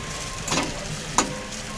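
Bitter gourd slices frying in oil in a pan for a bitter gourd and potato fry, a steady close sizzle with a couple of brief clinks or stirring taps over the hiss.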